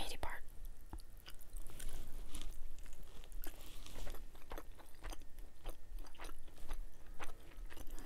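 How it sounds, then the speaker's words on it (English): A person chewing a bite of spicy air-fried Jamaican jerk oxtail, with close, wet, continuous chewing and crunching noises and soft breathy voice sounds mixed in. "First bite. This is jerk oxtail."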